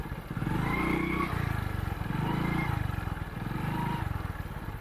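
A motorcycle rides along a rough rural road on a Jamuna river char, its engine droning steadily nearby with rhythmic pulsing and slight rises and falls in revs.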